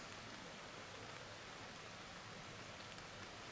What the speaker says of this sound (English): Well, I'm just glad to hear that rain. Just listen to it hitting the top of this.